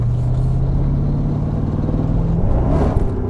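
The Aston Martin's swapped-in LS V8 roars loudly and continuously as it accelerates, its pitch shifting when the transmission kicks down a gear, close up throughout.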